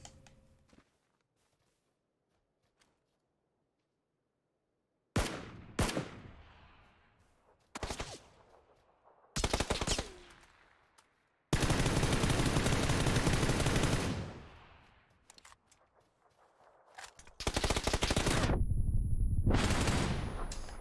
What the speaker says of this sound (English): I missed way too many shots there.